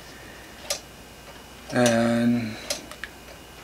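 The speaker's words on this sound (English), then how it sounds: "I'm really happy how the Grasshopper Escapement clock is working" A 3D-printed clock with a John Harrison grasshopper escapement ticks in soft, irregular clicks close by, and a brief voice cuts in for a moment.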